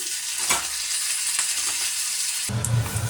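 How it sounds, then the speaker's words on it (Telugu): A tempering of red chili and asafoetida sizzles loudly in hot oil, a steady crackling hiss that continues throughout with a few sharper pops. "ఇలా పోపు వేసేస్తాము"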